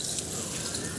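Tap water runs steadily into a sink in a home bathroom, a continuous broadband hiss at moderate level with no talk over it.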